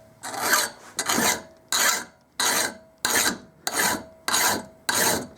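Metal file rasping across a steel chisel clamped in a vise, eight or so regular strokes about once per second, each a bright scraping burst followed by a short pause, close and clear with no voices.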